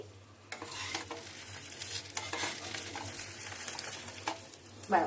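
Bread spread with egg frying crisp in oil mixed with a little butter on a tawa gives a steady close sizzle with scraping stir sounds throughout and a brief sharper crackle near the end.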